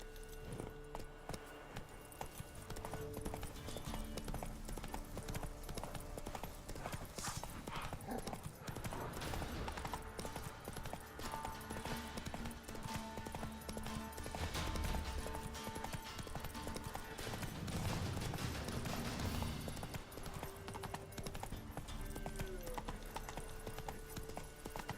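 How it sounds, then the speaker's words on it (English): Roach the horse gallops in The Witcher 3, hooves clip-clopping in a quick, steady rhythm for a long stretch, with an occasional whinny and game music and ambience underneath. "Horse."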